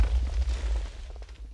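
A cannon shot explodes in a WarGear server fight in Minecraft, heard as a short, deep, muffled boom with rolling low rumble over about a second and a half.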